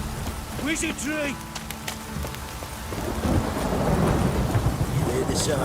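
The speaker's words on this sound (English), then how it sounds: "If it don't stop raining, my arse will rot off. This downpour's a bastard, it is." A heavy downpour with thunder builds from a quieter start into a dense, steady roar of rain. Brief voice-like tones sound near the beginning before the rain swells.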